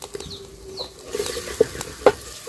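Garlic dropped into a hot pan for a Kenyan village dish, with a short burst of sizzling and a few sharp stirring scrapes and clinks over a quiet background.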